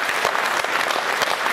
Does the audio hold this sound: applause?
yes